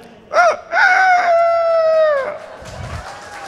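A performer at a cultural event imitates a rooster crowing: two short clucking bursts lead into one long, loud, drawn-out cock-a-doodle-doo, with faint crowd murmur after it.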